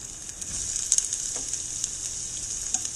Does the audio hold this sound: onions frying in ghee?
yes